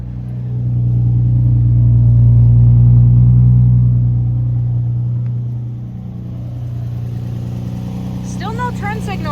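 A project car's exhaust rumbles steadily up close, a deep low drone that swells and then eases off into a quieter idle, with a voice talking over it near the end.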